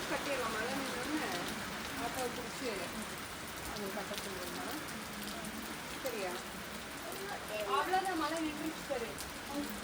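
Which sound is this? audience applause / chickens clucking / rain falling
rain falling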